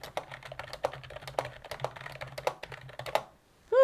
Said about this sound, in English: All right, let's do some typing.